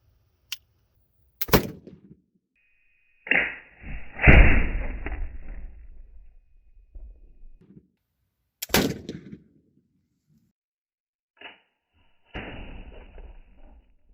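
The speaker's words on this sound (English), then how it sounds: "50 caliber flintlock, same exact powder load as the 44 caliber." A .50 caliber black powder flintlock firing: a sharp pan-flash crack, then a loud booming report with a trailing rumble, followed by further sharp impacts and bangs at irregular intervals outdoors.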